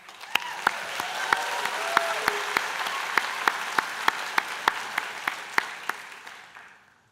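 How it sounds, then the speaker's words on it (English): Engineering technology graduates at a college convocation applaud themselves in a sustained crowd wash, punctuated by a regular series of sharp, prominent near claps, before the applause fades out. "Give yourselves a round of applause."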